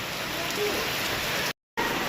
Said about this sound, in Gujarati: ભાઈ ખતરનાક વરસાદ ચાલુ થઈ ગયો